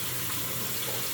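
Tap water runs steadily and fairly loudly over a crab being washed at a sink, a continuous splashing rush with no pauses.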